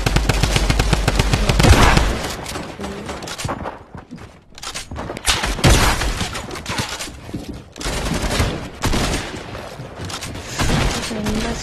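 Rapid automatic gunfire in a shooter video game, with dense bursts of loud shots and cracks of bullets passing close, broken by brief lulls before more volleys resume.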